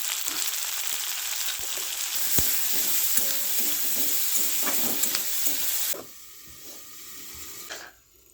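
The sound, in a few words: potato and onion frying together in a pan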